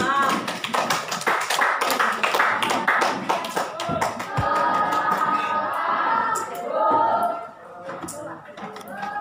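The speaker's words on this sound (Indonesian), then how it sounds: "Lulus bagi tepukan." A classroom of pupils claps steadily for a classmate who passed a spelling test, with a teacher's voice and chatter running over the clapping.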